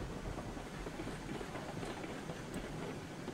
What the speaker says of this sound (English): Otherwise, the train's been running smooth.